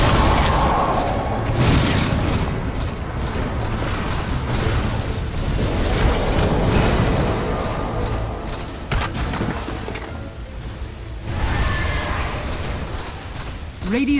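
Dota 2 tower fight: continuous booming attacks and bursts of spell and combat effects play loudly throughout, with an announcer voice speaking over the din.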